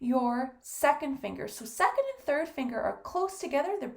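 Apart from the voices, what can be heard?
No everyday noises stand out.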